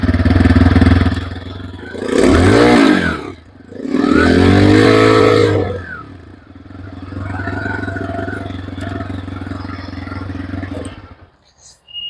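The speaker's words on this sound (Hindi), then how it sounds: "अभी मैं इसका इंजन स्टार्ट करके आपको इसका साउंड भी सुना देता हूँ" A 2024 TVS Raider Black Panther motorcycle engine cranks on the electric starter and settles into a steady, low idle, close by, with two louder revving bursts early on before a calmer idle.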